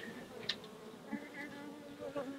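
Honey bee colony clustered around comb inside a trap-out box, a faint, steady droning buzz with a few brief louder passes of individual bees close by.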